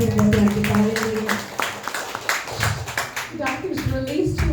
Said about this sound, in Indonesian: Berikan tepuk tangan yang meriah buat Tuhan kita.